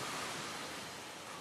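Siruvani waterfall at Kovai Kutralam near Coimbatore, heard as a steady, dense rush of falling water with an even, hissing roar and no distinct splashes or voices.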